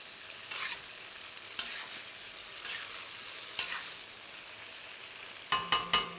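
Tofu and noodles sizzle faintly in a pan while being stirred, with soft scraping strokes every second or two and a quick run of three sharper clinks near the end; no one speaks.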